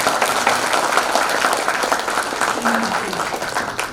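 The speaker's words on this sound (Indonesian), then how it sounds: "Kemudian tepuk tangan dulu." Audience applause at a nursing academy student pledge ceremony fills the hall in a steady, dense roar of clapping, loud and continuous throughout with no pause.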